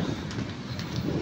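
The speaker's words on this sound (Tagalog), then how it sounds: "Ay, umaambon na." Light drizzle and gusting wind outdoors at night on the way home from a birthday party, a steady soft hiss of fine rain with low rumbling wind buffeting throughout, no talking.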